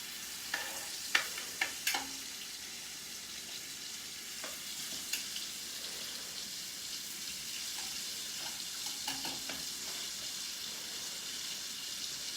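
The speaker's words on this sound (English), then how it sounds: "You want it nice and sizzling" Steak pan sizzling with broadband frying hiss, steady and moderately close, broken by a few sharp clinks and spatters early on; no talking.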